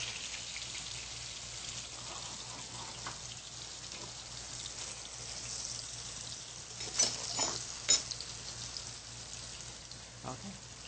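Tofu frying in a pan until golden brown, a faint steady sizzle with a few louder crackles and stirring clicks, heard quietly.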